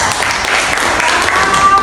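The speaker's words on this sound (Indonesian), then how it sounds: "beri tepuk tangan dulu kelompok 3" Classroom applause from students for group 3 during an Islamic religious education lesson, a dense wash of clapping lasting about two seconds with some voices mixed in.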